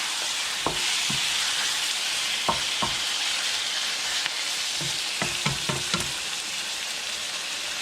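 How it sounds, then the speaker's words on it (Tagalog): Beef for kaldereta frying in a pot, a steady loud hiss of sizzling oil throughout, punctuated by several low knocks and scrapes of a spoon turning the meat, close up with no talking. "Itong ating beef, medyo iprito natin."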